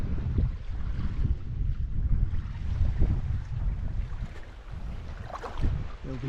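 Waves wash against a shore in a steady low rumbling wash, with swells rising and falling and some wind buffeting the microphone, close and continuous.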